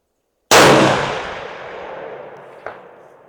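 A single loud, close rifle shot from a Ruger Gen 2 rifle in 7PRC firing a Hornady ELD-Match round at a long-range target outdoors, a sharp crack followed by a long rolling echo that fades over about three seconds.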